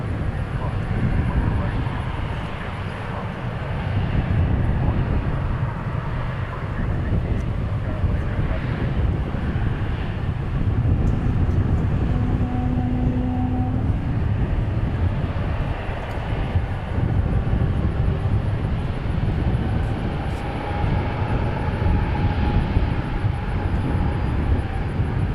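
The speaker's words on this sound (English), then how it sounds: "Frontier going to Las Vegas on Sky the Blue Jay on an A320neo" A Frontier Airbus A320neo airliner at DFW airport gives off a constant broad engine roar with some wind buffeting, holding steady throughout without anyone speaking.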